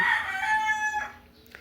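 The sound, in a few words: rooster crowing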